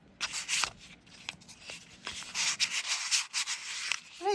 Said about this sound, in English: just to get it down a little bit, I like these sanding pads